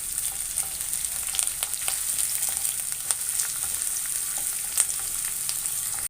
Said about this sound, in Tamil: இப்போ கருவேப்பிலை, கொத்தமல்லி போட்டுக்கிறோம்.